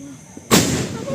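A Diwali firecracker meant to shoot up and burst instead goes off with one sudden loud blast that trails into a sustained hissing, crackling spray of sparks, preceded by a faint pop.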